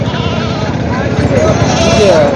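A couple of goats bleat among the crowd at the Parbhani Khandoba goat and sheep market, short wavering cries rising late over loud, close chatter and market bustle.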